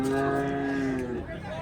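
A calf at a busy cattle market gives a long, clear moo lasting over a second, close and loud, with background crowd murmur and talk underneath.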